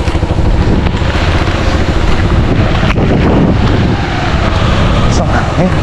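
Loud, roaring gusts of super typhoon wind buffet the microphone continuously, a heavy, turbulent rush with no letup.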